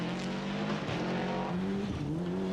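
A rally car races flat out on a stage at Lurgan Park, its engine note rising and falling through gear changes as it passes close by, loud and alone.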